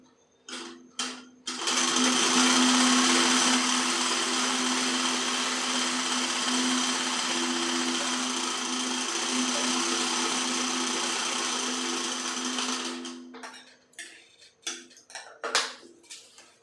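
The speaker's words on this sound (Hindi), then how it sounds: "डबल सिलाई लगाना है, तो अब यहाँ से फिर से वापस जाएंगे हम।" Sewing machine running a double seam on a kurti, a fast steady motor whir with rapid needle chatter held for about ten seconds, bracketed by short handling clicks and brief bursts of stitching.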